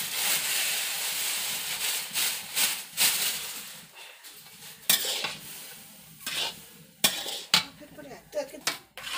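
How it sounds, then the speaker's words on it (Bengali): Vermicelli with sugar and water is stirred in a pan, with repeated scraping and clinking of a spoon against metal over a soft sizzle, in uneven bursts, close and moderately loud. "এরপর সমানে নাড়তে হবে।"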